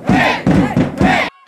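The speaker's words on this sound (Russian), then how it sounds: "помогали и болельщики, устроив настоящий фанатский перформанс." Student football fans at a university league match chant in unison in the stands, three or four loud rhythmic shouted bursts from a large crowd, then a sudden cut to quiet.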